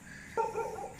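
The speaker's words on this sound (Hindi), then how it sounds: "इधर कुत्ते भौंक रहे हैं" Dogs barking in a quiet, deserted residential area: a single short bark followed by a brief whimpering yip, somewhat distant and faint against a low background hum.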